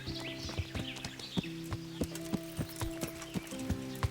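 A horse walks in the medieval video game Kingdom Come: Deliverance, its hooves clip-clopping in a steady, fairly quiet rhythm of sharp knocks over a low droning game background with no speech.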